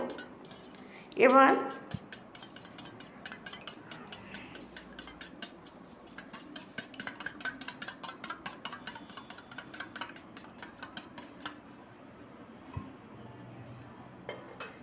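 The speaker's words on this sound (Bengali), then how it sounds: "ডিমটার মধ্যে অল্প একটু লবণ দেবো, দিয়ে ভালো করে ফেটিয়ে নেব" Egg whisked with a little salt in a bowl, a fork or whisk clinking quickly and steadily against the bowl with a sharper knock near the start, fairly quiet throughout.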